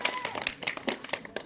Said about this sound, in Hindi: सब बच्चे ताली बजाओ एक बार से